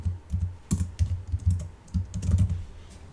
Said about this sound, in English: So if I type in John Doe